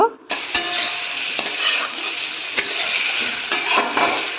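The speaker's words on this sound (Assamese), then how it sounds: "এয়া অলখিনি মই তাতে তেলত দি দিলোঁ। এইটো ভালকৈ ধুনীয়াকৈ এইটো লাৰি দিব লাগিব।" Chunks of elephant foot yam stir-frying in hot oil with cumin, a steady loud sizzle broken by occasional scrapes and knocks of a spatula against the pan.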